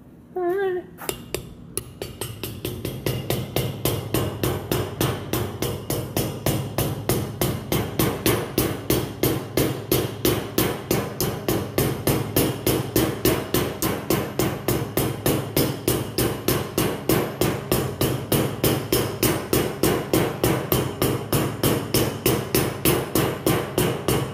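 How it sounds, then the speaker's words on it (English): A Mac Tools 16-ounce ball peen hammer strikes metal over and over in a fast, even rhythm, loud and close, while working on an excavator final drive assembly. "Let's do a little Mac Tools 16-ounce ball peen."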